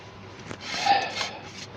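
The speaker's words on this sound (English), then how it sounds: "Now, we'll sand that and finish it." Sandpaper rubbing across a wooden turned Art Deco bowl, a short close rasping swell that rises and fades, with no talk.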